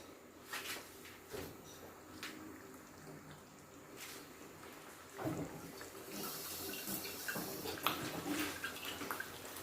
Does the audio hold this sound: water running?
yes